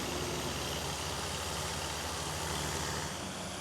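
A scraper's engine idles steadily behind the radiator grate of the earthmoving machine, a continuous low mechanical rumble with a broad hiss over it, close and unchanging throughout.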